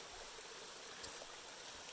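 A small mountain stream runs in a faint, steady trickling hiss with no voices, heard from a short distance.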